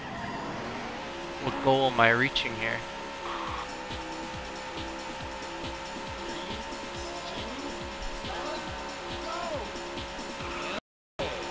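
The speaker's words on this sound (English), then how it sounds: "Gentlemen, start your engines." Race car engines drone steadily in the Daytona USA arcade racing game, with a sharp tire squeal rising early on. Music and someone talking run underneath, and the sound cuts out briefly near the end.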